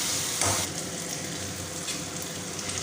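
Chopped tomato cooks in a pan for a fish curry, giving a steady close sizzle with light stirring and a short louder burst of spatter early on.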